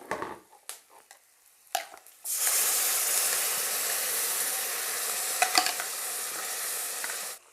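Chicken frying in a pan with green chillies and a ground masala paste, stirred through: a few soft clinks, then a loud, steady, close sizzle that continues to the end with occasional scraping.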